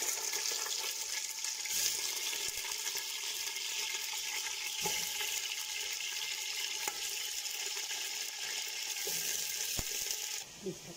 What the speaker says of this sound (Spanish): en una olla colocamos el pollo en aceite, lo vamos a sellar.